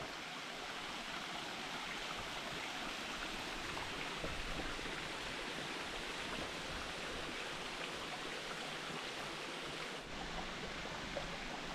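Streams in the Massif Central flowing steadily, a continuous broadband rush of water heard up close, unbroken and even throughout with no voices.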